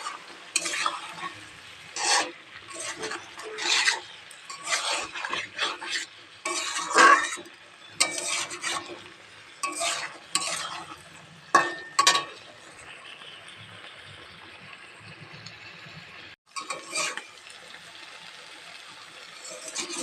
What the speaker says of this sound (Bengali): এবার এটাকে একটু নাড়তে থাকবো।